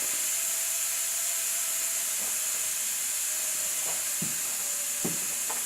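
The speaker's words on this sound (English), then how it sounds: "Now we're letting the steam out of our pressure cooker" Steam hisses loudly and continuously as it is let out of a pressure cooker cooking beans, a steady broad rush with a few faint clunks beneath it.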